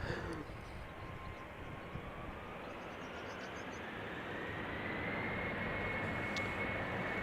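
A German Airways Embraer 190 jet operating for KLM departs Amsterdam Schiphol for Bremen, its engine roar building gradually and staying fairly distant and faint, with a thin whine riding over the rumble.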